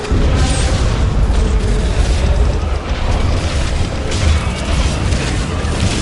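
Cannons on a beach in Guild Wars 2 firing at undead hordes, heavy booms and explosions merging into a dense, loud, continuous rumble with mechanical clatter, and no clear pauses.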